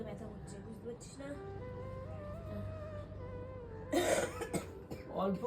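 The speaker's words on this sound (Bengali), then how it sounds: "কাশি হচ্ছে, বুকে ব্যথা হচ্ছে, বুঝতে পারছিস না?" A person coughs in a couple of harsh bursts near the end, while another voice talks in the background of a quiet room.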